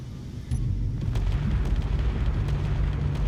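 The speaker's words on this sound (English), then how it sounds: "Oh, and our other laser shooting at something." A heavy fixed laser fires in the space game Space Engineers, a sudden loud booming burst that settles into a sustained deep rumbling roar with crackling pulses.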